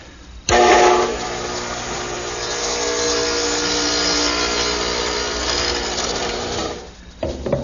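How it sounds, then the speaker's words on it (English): A radial arm saw fitted with a dado head cutter narrowed to 3/8 inch cuts dados across wooden shelf stock: a loud, steady, close whine lasting several seconds, starting abruptly and tapering off as the cut ends. "So I've narrowed the dado head cutter to 3/8,"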